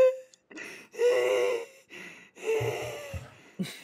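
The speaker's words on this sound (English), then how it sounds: "He's gasping for air." A person gasps for air while laughing hard during a heated UNO game, making several sharp, strained intakes of breath and wheezes in close, uneven bursts.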